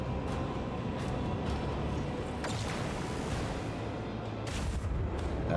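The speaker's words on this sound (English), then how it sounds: "There's their torpedoes." Torpedoes striking a ship in the video game Rogue Trader: a steady low rumbling roar of impacts, with a few sharper booms standing out above a dense continuous bed of noise.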